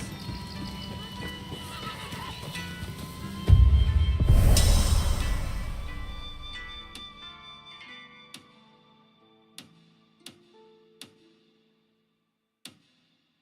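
Horses in Final Fantasy XIV neigh loudly once, then hooves clip-clop in sparse, isolated knocks that fade toward silence, with a voice talking early on.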